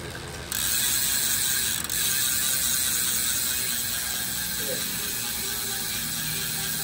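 Freehub ratchet of a tuned hub on a 2023 Giant Propel Advanced SL aero road bike, a steady fast buzzing click from the freewheeling rear wheel, close and loud, running on without pause and with no talking.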